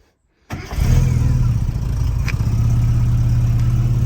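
Supercharged 1275cc Mini engine cranking after a moment of silence, catching quickly and settling into a loud, steady, close idle with a slightly lumpy rumble.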